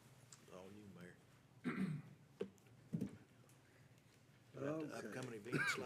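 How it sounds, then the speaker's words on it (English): A man at a city council meeting coughs and clears his throat several times, short sharp bursts between stretches of his own speech, close to the microphone in an indoor chamber. "The more I talk, the more I cough."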